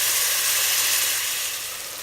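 Tomatoes sizzle and hiss steadily in a hot pan with browned onions and green chillies for a chicken biryani, a bright continuous frying sound heard close up with no voices.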